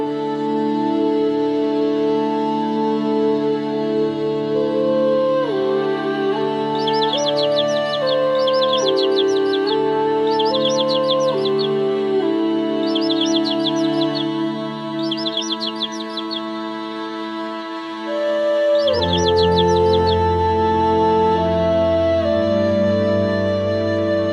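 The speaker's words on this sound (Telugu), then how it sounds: "పక్షుల కిలకిలలు." Small birds chirp in short repeated bursts over a sustained musical backdrop, the tweets bright and clear against the steady tones.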